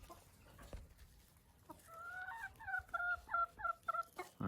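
A rooster nearby gives a run of throaty, rhythmic clucks that build into a rapid series of calls, with faint background noise and no talking.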